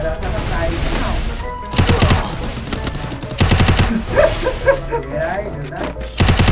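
Bursts of MP40 submachine gunfire in the Free Fire mobile shooter, three or four loud rapid volleys separated by short gaps, with game sounds and chatter between them.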